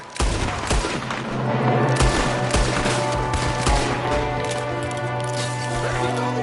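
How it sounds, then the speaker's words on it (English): A Western shootout in the video game Red Dead Redemption 2, with repeated loud gunshots and rapid bursts cracking over a low steady hum, dense and close, with voices talking through it. "there's another one shooting from the window"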